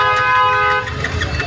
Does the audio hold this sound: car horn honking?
yes